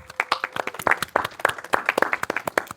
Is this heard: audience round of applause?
yes